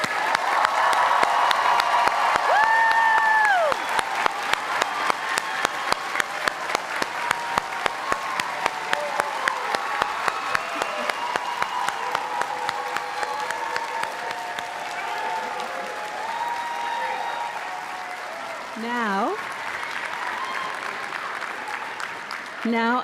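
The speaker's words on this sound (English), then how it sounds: "join me in a round of applause for the graduating class of" An audience at a university convocation ceremony applauds the graduating class, giving dense, sustained clapping across the hall with a few cheers and a whistle, while voices murmur under it.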